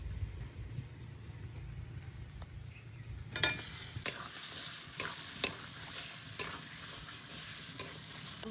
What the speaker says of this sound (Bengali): আলু দিয়ে একটু নাড়াচাড়া দিলাম